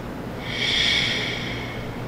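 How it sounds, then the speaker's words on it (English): Slow, deep breath drawn during a yoga stretch, a soft airy whoosh swelling over about a second and easing away, close and steady with no talking. "Breathing deeply."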